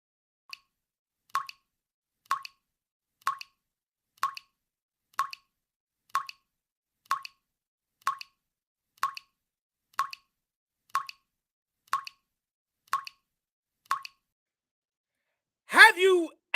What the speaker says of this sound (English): Have you ever heard a faucet that dripped all